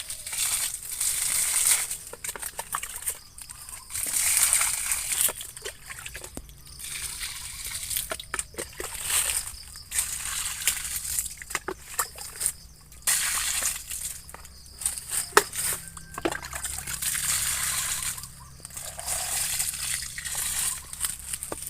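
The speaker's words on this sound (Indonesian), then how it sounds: "Kita siram di pohon-pohonnya." Continuous splashing and sloshing of water poured onto the ground at the bases of longan trees, with crunchy rustles, steady and close for a long stretch without talk.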